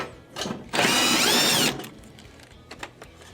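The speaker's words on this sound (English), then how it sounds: "We remove these screws" A screwdriver, likely powered, backs out Phillips screws from the rear lower panel of a Whirlpool, Maytag or Roper range oven, making one sustained whirring ratchet burst near the middle, with light clicks and handling before and after.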